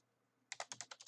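A quick burst of about eight close keystrokes on a computer keyboard, crisp and rapid, after a half second of near silence; the whole burst is faint.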